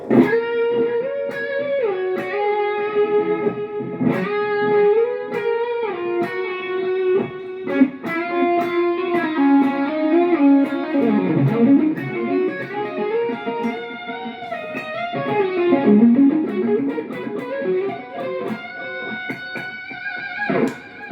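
An electric guitar solo runs through a MOOER GE-200 multi-effects unit set with delay, reverb and compression, playing sustained, distorted melodic lines that bend and glide continuously for about twenty seconds without talking.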